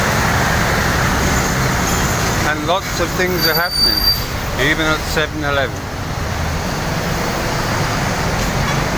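Busy early-morning street traffic in Bawang around seven o'clock, with buses and cars rumbling past close by in a continuous roadway roar, while someone talks over it.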